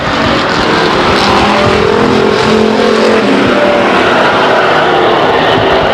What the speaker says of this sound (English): And now Lovelace goes low into turn 2 down the backstretch, holding on to second place